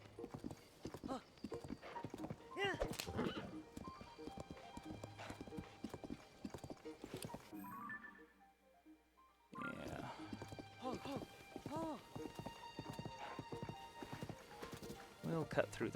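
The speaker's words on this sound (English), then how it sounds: "At least this is a pretty fast horse." A fast horse gallops in The Legend of Zelda: Tears of the Kingdom, with rapid rhythmic hoofbeats and a whinny, under game music and a talking player, briefly dropping out near the middle.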